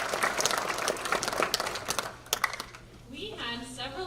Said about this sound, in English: Can you give yourselves a round of applause, please?